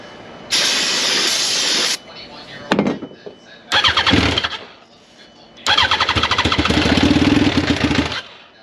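Suzuki RMZ250 motorcycle engine turning over and firing, with an open exhaust full of leaks and a crude custom pipe: several loud, rough, hissing bursts separated by short gaps, close to the microphone.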